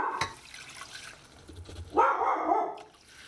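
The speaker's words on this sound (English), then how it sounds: "The dog's decided to bark like crazy." A dog barks indoors in a home kitchen, a sharp single bark followed by a louder, longer burst of barking toward the end, with running water in the background.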